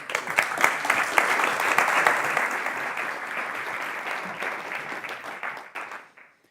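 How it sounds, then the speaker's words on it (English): Audience applause at a city science summit talk, a dense, steady wash of many hands clapping that swells early and then fades out over several seconds. "Big applause for him."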